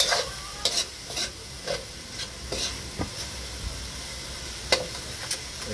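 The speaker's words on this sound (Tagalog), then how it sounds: "Haluin natin." Pork giniling sisig stirred in a pan, with a constant frying sizzle and a series of sharp scrapes and knocks from a spatula on the pan at an irregular pace, close up with no voices.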